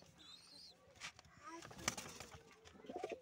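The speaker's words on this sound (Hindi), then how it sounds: "पंजाबी कबूतरी देखिए, पंजाबी कबूतरी।" Soft Punjabi pigeon coos sound faintly amid rustling and low background noise, with a few brief chirps near the end.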